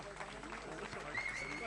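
Audience applause rises after a kickboxing match at a Partouche tournament, a dense crowd clapping heard under an announcer's French voice over the arena sound.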